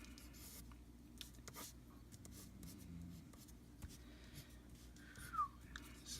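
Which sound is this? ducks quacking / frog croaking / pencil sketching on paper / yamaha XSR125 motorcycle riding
pencil sketching on paper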